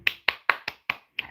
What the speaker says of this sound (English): I'm giving you a genuine, sincere hand clap